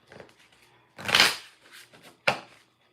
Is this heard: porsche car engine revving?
no